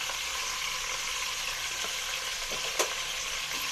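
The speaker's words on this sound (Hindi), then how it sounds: "अब हम इसमें अदरक लहसुन का पेस्ट डाल देंगे, 2 बड़े चम्मच अदरक लहसुन का पेस्ट" Ginger garlic paste fries with mutton in a pot, a steady close hiss of sizzling oil with one faint clink of a spoon, no talking.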